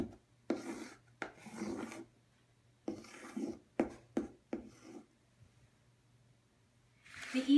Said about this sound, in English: you can actually use the chalk on the easel to write your name